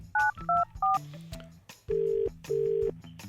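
A telephone keypad dials a short sequence of tones: three quick paired beeps, then two longer steady tones after a pause, all near and clear, with a brief voice fragment between.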